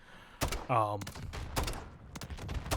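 RGL-80 grenade launcher firing in a shooter video game, several sharp close shots and blasts in quick irregular succession with a brief tonal whine between them.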